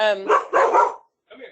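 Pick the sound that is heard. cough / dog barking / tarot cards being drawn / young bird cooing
dog barking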